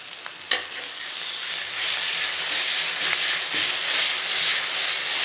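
Ginger garlic paste fries in a pan for an eggplant and drumstick curry, giving a steady bright sizzle that holds at an even level, with a stirring scrape near the start.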